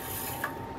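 Gas stove switched on in a home kitchen, a single short ratcheting click of the igniter knob, faint against a quiet room.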